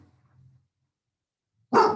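A dog lets out a single sharp, loud bark near the end, after a stretch of near silence with only a faint low hum at the start.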